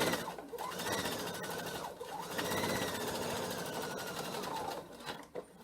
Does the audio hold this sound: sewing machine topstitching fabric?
yes